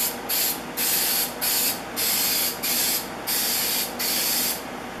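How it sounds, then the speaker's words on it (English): A can of number 77 spray adhesive hisses as it mists paper in about eight quick, even bursts, each lasting roughly half a second, close and loud with no talking. "I need to mist the back side with some number 77 spray adhesive"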